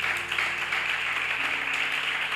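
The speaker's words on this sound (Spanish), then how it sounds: "Dale un aplauso a Dios, anda, por favor." A church congregation applauds steadily, a dense, even wash of many hands clapping throughout with no pause.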